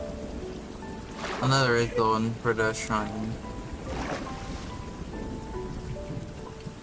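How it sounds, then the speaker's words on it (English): Steady rain falls across a Minecraft world, a loud continuous hiss that runs beneath a player's talking throughout. "the rain in this part is very loud for some reason"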